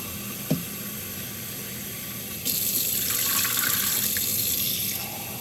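Water runs from a tap into a kitchen sink while preparing tulingan fish, starting abruptly partway through and flowing steadily, with a faint clink just before.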